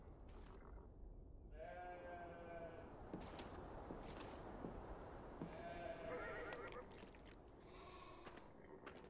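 Sheep bleat a few times at moderate distance over a constant low background hum, the calls spaced out across the stretch, in the video game Beyond: Two Souls.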